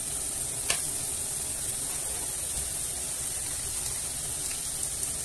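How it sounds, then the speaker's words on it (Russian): Pumpkin stewing in butter in a pan gives a steady, even sizzle with faint hiss throughout and one brief tap near the start, with no voices. "Мне нужно протушить эту тыкву до полуготовности."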